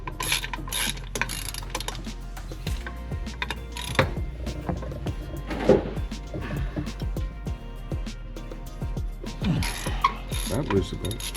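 A ratchet wrench loosens a nut on a truck drive shaft, its pawl clicking in repeated bursts of close, crisp ratcheting with clanks of metal and shop noise between strokes.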